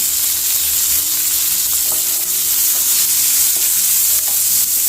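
Mango pieces with salt and turmeric cook in a pan under steady stirring, a constant loud sizzle with scraping and occasional clinks running uninterrupted.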